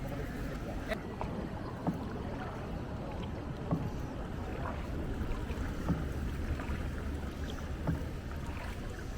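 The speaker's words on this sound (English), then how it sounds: "So we've just got on the boat now and we're going to head into the cave." A boat's low engine drone and water noise churn steadily throughout as it heads toward a cave, with faint wind buffeting and occasional soft knocks.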